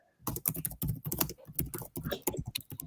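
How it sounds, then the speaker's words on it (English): Fast typing on a computer keyboard, a close, dense run of sharp key clicks in uneven bursts with no talking. "Are you typing"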